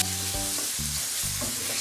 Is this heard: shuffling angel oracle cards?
no